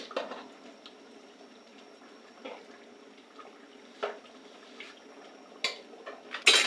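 Biryani rice and meat being stirred in a pot, giving soft scraping and clinking knocks at irregular intervals over a quiet, steady background, with no talk.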